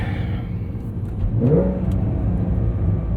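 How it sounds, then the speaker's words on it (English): A 2023 Porsche 911 Carrera T manual auto-blips its engine on a downshift into first gear, a short rising rev flare that climbs over a steady low cabin rumble and road drone, then settles back. "It's amazing how you can auto blip into first gear and you can't even feel it."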